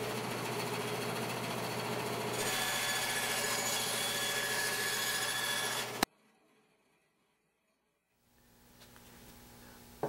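A table saw crosscuts a 3/4 inch board on a shop-made crosscut sled, giving about six seconds of loud, steady sawing over the motor hum. The saw then cuts out to near silence and the motor faintly spins back up.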